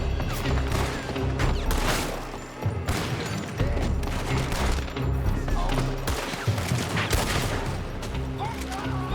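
Rapid gunfire from a shootout in Red Dead Redemption 2 crackles loud and near in dense overlapping volleys, with heavy impacts and booms filling the whole stretch under shouted voices.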